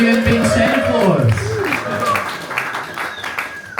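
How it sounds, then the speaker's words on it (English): An audience at an electronic music open mic night in Sydney claps and cheers in a sustained burst of applause, with a voice talking over the crowd near the start. "I would like to keep that applause going"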